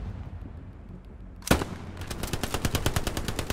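Bursts of automatic machine gun fire from a WW2 battle in Hell Let Loose, starting with a sharp loud shot and continuing as a rapid, steady stream of rounds over low ambient rumble.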